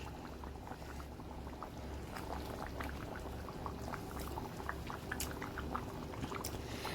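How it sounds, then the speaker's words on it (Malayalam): A pot of Kerala fish curry (vaala meen curry) boils at a steady simmer, with soft continuous bubbling and small pops, close and quiet with no talking. "ഒരു 10 മിനിറ്റോളമായി ഇത് തിളയ്ക്കാനൊക്കെ ആയിട്ട് തുടങ്ങിയിട്ട്"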